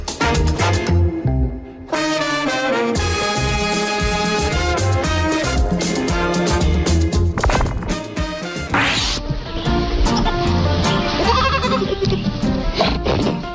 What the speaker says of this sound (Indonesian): video yang memperlihatkan 4 anak kambing cebol yang tengah bermain-main